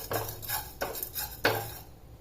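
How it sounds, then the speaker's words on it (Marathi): Fennel seeds, cumin and black pepper dry-roasting in a kadhai, with three distinct bursts of a spatula scraping and tossing the spices against the metal pan, close and clear with quiet gaps between. "याला पण खमंग असं भाजून घ्यायचंय।"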